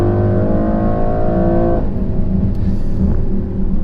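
A 2021 Mercedes-AMG GLE 63 S engine revs loud and close, a rising harmonic whine that cuts off sharply, leaving a deep rumbling exhaust with crackling pops and bangs.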